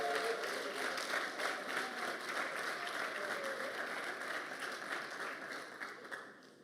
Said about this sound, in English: If we can have a round of applause for that.